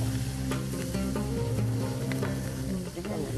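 Chopped onion and garlic fry in hot fat for chicken machboos, a dense, close sizzle with a low steady hum underneath and a few soft clicks from the pan.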